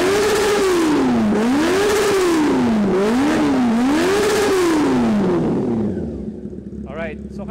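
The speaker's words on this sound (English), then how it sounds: "Rev mo ng todo, Mel, tingnan natin kung saan pupunta" A Kawasaki ZX-10R or Honda CB400 motorcycle engine revved to full throttle indoors in a warehouse, loud and close, rising and falling in several sweeping revs before dropping to idle, with voices talking over it near the end.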